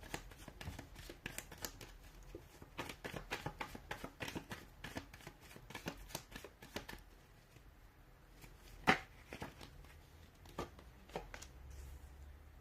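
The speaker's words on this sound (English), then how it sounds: "give the cards a shuffle" Tarot cards are shuffled in quick, soft, close riffles, a run of crisp papery flutters and slaps, then quieter handling with one sharp tap.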